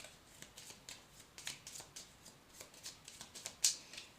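Playing cards being shuffled by hand during a tarot-style card reading, a quiet run of soft riffling bursts repeating steadily, close and faint, ending with one sharper snap of the cards.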